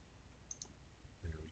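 A single computer mouse click, faint and close, in an otherwise quiet setting.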